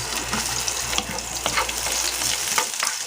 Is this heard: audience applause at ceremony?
no